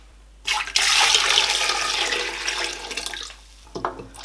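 Water gushes loudly into a cooking pot holding cow leg for Nigerian ogbono soup, a strong continuous pour lasting about three seconds before cutting off, followed by a few faint clinks.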